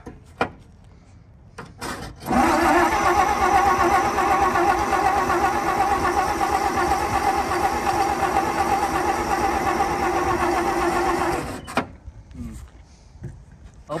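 A dually truck's engine, parked for 45 years, fires up after a moment of cranking and runs loud and rough for about nine seconds before cutting out, with faint clatter before and after.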